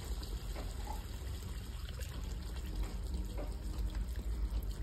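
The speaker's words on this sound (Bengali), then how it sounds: "বন্ধুরা এবার জলটা দিয়ে দিচ্ছি" Water is poured into a pan of doi chicken with potatoes, a steady close splashing and trickling that runs the whole time without talk.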